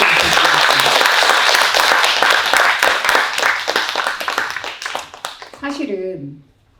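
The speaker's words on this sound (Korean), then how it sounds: "여러분 큰 박수 부탁드립니다" A dense wash of audience applause fills a book concert at an independent bookshop, loud and sustained, then thins toward the end as a voice begins speaking over the fading claps.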